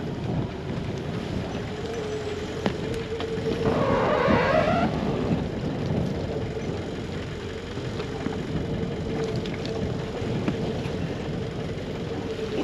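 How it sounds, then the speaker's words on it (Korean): A yacht's engine runs at sea in strong wind, a low steady idle-like drone under gusty wind noise, with a brief louder swell of rushing air partway through. "자, 이제 엔진 들어갑니다."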